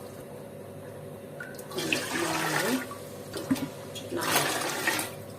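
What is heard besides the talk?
water poured into a large cooking vessel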